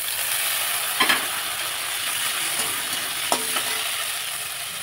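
Chopped tomato is tipped onto onions frying in a pan, giving a steady, bright sizzle throughout with a few soft clinks and stirring knocks, close and continuous, with no talking.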